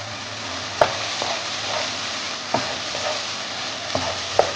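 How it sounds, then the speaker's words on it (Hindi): Lightly mashed chickpeas fry in a masala with a steady sizzle, and a few distinct spoon knocks against the pan come every second or so. "और अब इन चनों को इस मसाले में भून लें।"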